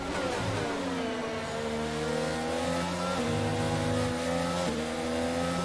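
An F1 race car engine in the F1 22 video game at the Spanish Grand Prix, loud and steady with repeated rising revs and gear shifts as an AlphaTauri overtakes, no talk over it.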